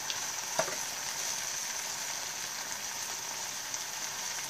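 Vegetables for a Vizcaína-style sauce, Brussels sprouts with peppers, gently fry in a pan, giving a soft, even hiss with one small clink near the start, quiet and steady without talk.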